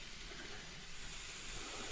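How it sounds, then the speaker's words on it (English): Soft, steady hissing sizzle of Honeycrisp apples cooking on an indoor wood stove, continuous and fairly faint, with no voices. "It's already sizzling."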